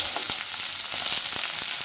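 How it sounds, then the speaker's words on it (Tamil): Onions sautéing in a pan after cumin and dried red chillies, a continuous bright sizzle with small crackling pops and a few stirring scrapes, close and alone without talk. "இப்போ இந்த வெங்காயத்தை இதில் வதக்கிக்கலாம்."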